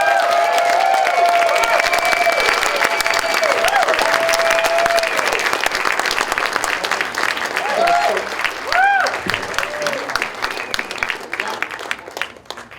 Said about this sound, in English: Let's give a huge round of applause for Frank Sorrentino and